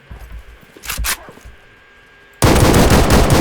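Loud continuous automatic gunfire in the S.T.A.L.K.E.R. Radiophobia 3 video game during a fight with mercenaries, breaking out suddenly after quieter scattered noises and a couple of dull thuds.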